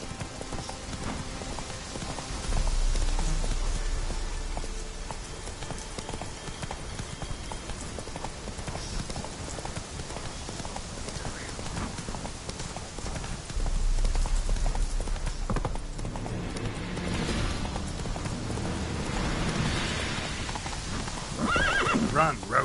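Roach the horse gallops in The Witcher 3, steady clip-clopping hoofbeats carried close under a rainy ambience, with snorts and whinnies breaking through.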